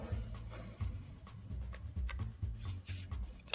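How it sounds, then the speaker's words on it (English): A small packet of playing cards shuffled by hand: a close, soft, irregular rubbing and riffling with brief fluttering bursts, fairly quiet and with no talking. "Okay, give them a shuffle."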